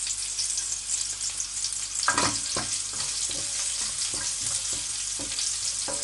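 Garlic and cumin seeds sizzle in hot oil in a frying pan over a low flame, a steady hiss broken by several sharp clicks and knocks of a utensil against the pan.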